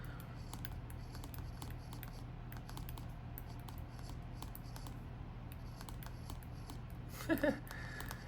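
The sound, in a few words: pen writing a note on a Samsung Galaxy Z Fold 6 screen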